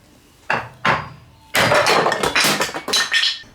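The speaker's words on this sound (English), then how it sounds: "Disaster struck and the barrel rest broke in two as I attempted to chisel out the notch." A chisel is struck into old, dry pine wood to cut a notch for a wall bracket: two sharp, separate knocks, then a dense flurry of close, loud, crackling impacts and splintering.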